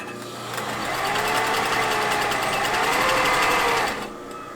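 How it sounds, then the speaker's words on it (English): A sewing machine stitching a test piece: a steady, loud, continuous mechanical whir that runs evenly for about four seconds and then stops abruptly, close to the listener. "Actually, let me sew a test piece first."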